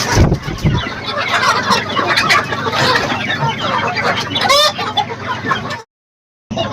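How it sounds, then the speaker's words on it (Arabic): Farm chickens at their morning feeding, a dense close chorus of clucking and squawks with an occasional crow, continuous until a brief dropout near the end. "هذا الدجاج اللي دابا خاصو ياكل الوجبه ديالو الصباحيه"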